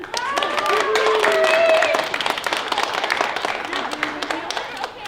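Friends clap for a six-year-old boy named Kerim as he gets his first dose of a COVID vaccine, a steady patter of applause mixed with children's and adults' voices chattering over it.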